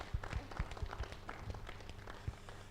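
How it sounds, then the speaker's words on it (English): Audience applause for the ambassadors closing a UNCCD session, a fairly quiet, loose scattering of hand claps from a modest crowd, irregular and somewhat distant. "I would like to have a huge round of applause to our ambassadors today."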